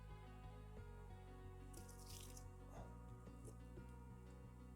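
Paint sizzling and crackling under an infrared paint stripper, with faint, irregular pops and hisses over a constant humming extractor fan.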